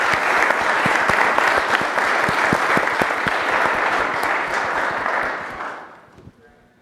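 A room applauds at a city council president's swearing-in, dense clapping holding steady for several seconds before tapering off into near silence.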